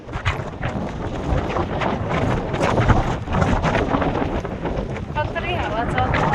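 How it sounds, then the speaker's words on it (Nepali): Strong wind buffets the microphone at the Supa Deurali hilltop temple, a loud and steady broadband roar with gusts that swell and ease, with faint voices in the background. "कत्रै हावा चल्छ"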